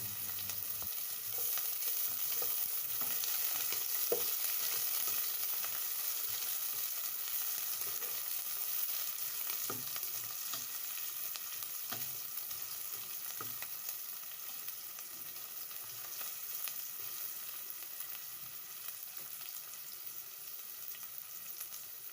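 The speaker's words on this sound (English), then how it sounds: "When heated up, I'll now add the onions, allow it to fry for some time." Steady crackling sizzle of onions frying in hot sardine oil, continuous and close, with occasional small pops and no talking.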